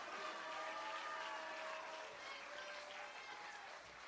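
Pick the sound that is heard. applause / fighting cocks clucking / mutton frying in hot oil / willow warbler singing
applause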